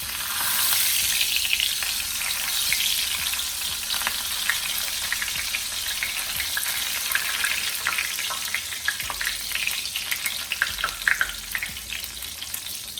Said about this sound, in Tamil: அடுத்தது கருவேப்பிலை ஃப்ரை பண்ணி எடுத்துக்கலாம்